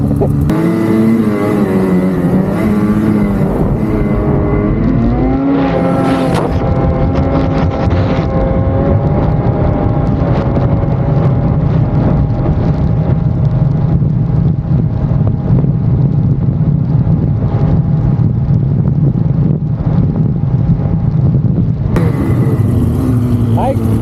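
Ski-Doo Turbo R and Polaris Boost VR1 snowmobiles racing, with loud turbocharged engines droning and rising in pitch close to the microphone under heavy wind buffeting for the whole stretch, along with brief speech.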